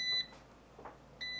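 An air fryer beeps when cooking finishes, giving short, high electronic tones: one at the start and another about a second later after quiet. The sound is fairly close and clear, with no talking.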